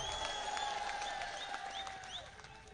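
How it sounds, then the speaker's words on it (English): Crowd clapping at an outdoor youth political rally, a fairly faint wash of applause with some high whistle-like tones and cheering sounds drifting over it. "They are clapping for that."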